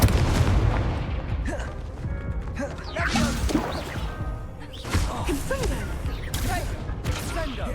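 Incendio fire spell cast in a wizard video game: several booming fiery bursts with creaking, crackling impacts, loud and close amid busy game effects, with a voice talking in the mix.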